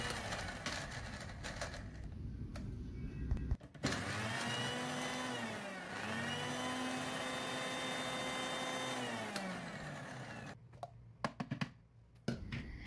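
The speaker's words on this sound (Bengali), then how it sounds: "এখন একইভাবে ব্লেন্ডারটাকে হাই স্পিডে অন অফ করে আমি ব্লেন্ড করে নিব এক মিনিটের জন্য" An electric blender runs at high speed, blending fried hilsa fish heads for a fish bharta. A loud, steady motor whine lasts about six seconds with a brief dip midway, and no one speaks.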